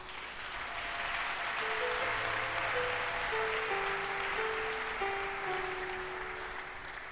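Steady, sustained applause from a church congregation. Many hands clap continuously for several seconds, with soft sustained tones beneath it.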